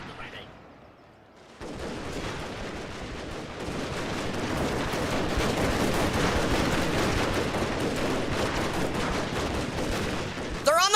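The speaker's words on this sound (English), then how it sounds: "Those Gatling guns are disgusting." Gatling guns rattle in a battle in the Total War: Shogun II strategy game, a dense, continuous roar of rapid gunfire that swells after a brief quiet start and keeps going to the end.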